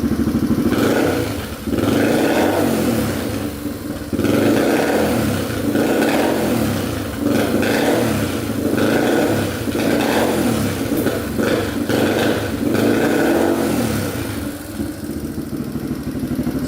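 A Yamaha TTR230 dirt bike engine revs repeatedly in rough, uneven bursts with the choke off, with occasional popping backfires, loud and close, and no talking.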